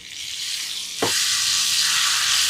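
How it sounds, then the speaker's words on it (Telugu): A tempering of urad dal, mustard seeds, cumin, crushed garlic and red chili pieces fries in hot oil for gongura dal. A soft hiss jumps into a loud, bright, continuous sizzle about a second in and keeps crackling steadily. "పోపు వేగిందండి"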